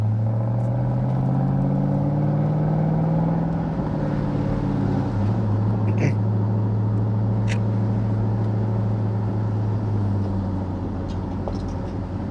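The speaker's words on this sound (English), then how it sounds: "Today we are in my 2004 Ford Mustang Mach 1 in competition orange" A 2004 Ford Mustang Mach 1 in competition orange hums along on a test drive, a steady low engine drone from inside the car with a gear change shifting the pitch partway through, no talking.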